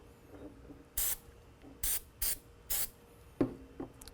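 Four short, bright bursts of cleaner sprayed onto an AR-15 bolt carrier, each a sharp close hiss about half a second long, spaced evenly and followed by small handling clicks in a quiet room.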